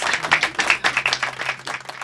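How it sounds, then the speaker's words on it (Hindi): Applause from an audience, many hands clapping in an uneven patter that rises and dips. "जोरदार तालियां"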